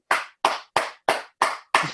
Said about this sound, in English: Give you some hand claps and some finger snaps there, brother.